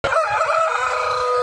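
Inside a poultry house holding broiler parent stock, chickens call loudly and close by in a sustained, crowing-like cry over low clucking.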